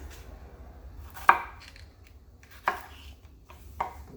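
Knife chopping raw goat meat for Jamaican curry goat, three sharp separate thuds spaced about a second or more apart over a quiet low hum, close and fairly loud.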